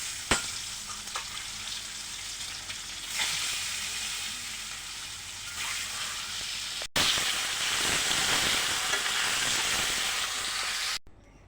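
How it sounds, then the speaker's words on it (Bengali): An egg frying in hot oil in a kadai, with a loud steady sizzle that swells sharply partway through and holds close and constant, with no talk. "কড়াই গরম হয়ে গেল, এখন ডিমটা ছেড়ে দেই।"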